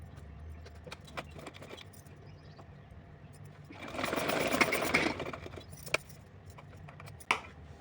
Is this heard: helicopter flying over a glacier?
no